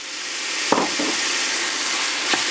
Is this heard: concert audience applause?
no